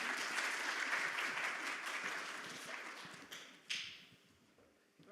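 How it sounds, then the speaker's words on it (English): A workshop audience at a health inequalities training day claps together in a fairly quiet room. The applause is steady at first, then thins and fades toward the end with a few last scattered claps. "Oh, we can give them a clap."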